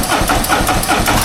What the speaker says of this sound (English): First startup on the 2024 Road Glide with the Silber